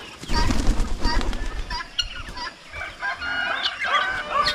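Pigeons mixed with other fowl and a rooster in a poultry yard, a busy chorus of cooing, clucking and calls, near and fairly loud, while someone talks over them.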